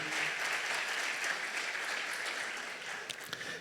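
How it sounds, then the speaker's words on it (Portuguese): A church congregation applauds in a dense, sustained burst of clapping that slowly fades toward the end. "Vamos aplaudir ao Senhor, em nome de Jesus."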